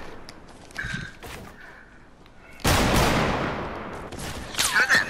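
Gunfire in the video game Fortnite: a few quiet shots early on, then a loud, sustained burst of fire that continues to the end, with faint talk underneath.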